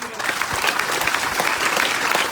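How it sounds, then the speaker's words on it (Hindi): Seminar audience applauding together for a young starter called up on stage, a dense, steady wash of clapping throughout the short stretch with a few louder individual claps standing out. "एक ताली इसके लिए।"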